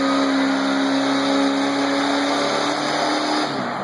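A Chevrolet truck's engine revs hard at a dirty max truck pull, rear-wheel drive only, a loud sustained high drone with rising and falling harmonics, close up and without talking.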